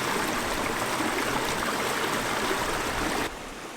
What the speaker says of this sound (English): We're now by the river, collecting some water.